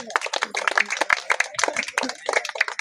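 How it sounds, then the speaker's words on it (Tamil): An audience claps at a village drama performance: scattered, uneven hand claps from a crowd, mixed with voices, close and fairly loud for a few seconds. "சத்தமா தட்டுங்க"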